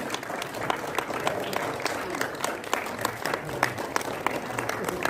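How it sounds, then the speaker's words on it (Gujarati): A crowd claps steadily and densely at a government clerk's retirement and birthday ceremony, the applause sustained and close throughout, with faint voices mixed in. "જોરદાર તાળીઓ તમારી મળતી રહેવી જોઈએ મિત્રો"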